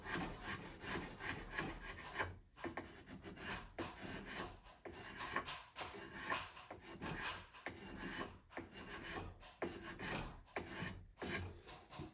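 Wood is carved by hand in big chunks, a close, continuous run of scraping and rasping strokes with brief pauses between bursts.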